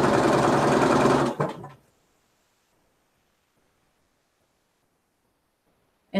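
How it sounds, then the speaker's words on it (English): A sewing machine running straight seams on a jelly roll quilt whirs steadily and loudly for just over a second, then stops abruptly, leaving near silence. "Dawn, this is just a lot of straight sewing"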